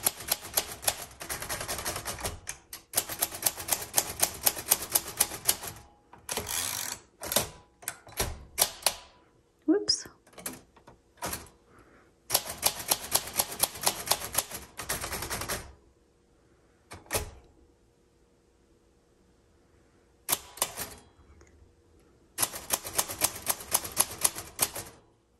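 Typing on a 1938 Royal Model O manual typewriter: bursts of sharp key strikes and clacks in close, loud runs, separated by pauses and a few isolated knocks of the carriage and mechanism.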